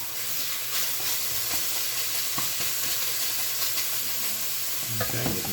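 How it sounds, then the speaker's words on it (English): Steady sizzling of vegetables frying in a pan for minestrone soup, with occasional clinks and stirring scrapes, close and continuous. "All right, so I've got a nice sizzle here."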